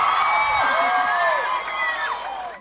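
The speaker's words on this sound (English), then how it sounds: "That was applause for my mother." An audience at a live show cheers and whoops loudly, with voices rising and falling over a sustained crowd roar before it cuts off abruptly.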